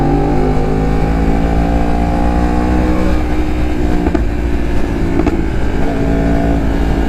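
A motorcycle engine runs loud and close throughout on a Sunday morning road ride, holding a steady drone with a couple of sharp popping backfire cracks near the end.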